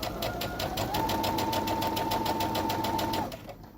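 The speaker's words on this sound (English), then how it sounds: "Then I'll continue to sew." A sewing machine runs steadily, stitching in a fast, even rhythm with a constant motor whine, close and clear for about three seconds before stopping.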